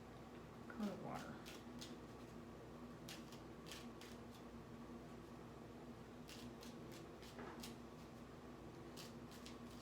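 Tarot cards shuffled by hand come through as soft, brisk riffling bursts in a few separate spells, faint and close in a quiet room, with a short moment of speech near the start.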